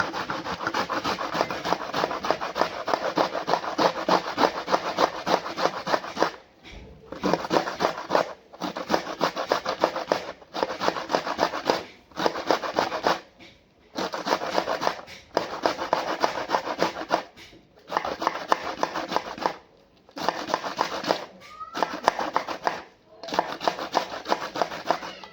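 Cabbage is grated by hand for gobi manchurian: steady, rhythmic rasping strokes repeat close and loud for a long stretch, broken by short pauses.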